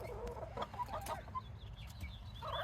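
Backyard hens softly cluck and murmur near young chicks, a faint, close, irregular series of short calls with small chirps scattered through, no talking.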